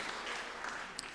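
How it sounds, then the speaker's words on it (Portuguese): Audience applause at a church sermon, a steady dense wash of clapping held at an even level for about a second, with no voices above it. "Vamos dar uma salva de palmas para o Eduardo?"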